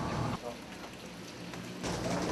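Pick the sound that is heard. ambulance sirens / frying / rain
rain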